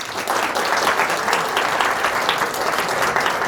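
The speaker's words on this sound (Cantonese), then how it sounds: "其實可唔可以再俾啲掌聲大家？" Hall audience at a Christian film sharing event breaking into loud, sustained applause, dense clapping from many hands holding steady for several seconds.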